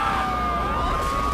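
An ambulance siren in Grand Theft Auto 3 wails continuously, a clear steady tone gliding slightly up and down over rumbling engine noise.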